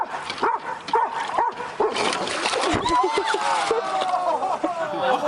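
A small dog whimpers and yips after a fall, in short irregular high cries with splashy noise, a clear bark-like burst midway and steady talk or music running underneath.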